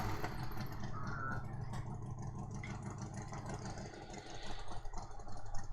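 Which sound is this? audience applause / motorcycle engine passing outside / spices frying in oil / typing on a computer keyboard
motorcycle engine passing outside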